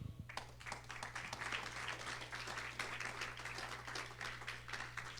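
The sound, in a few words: congregation applause in church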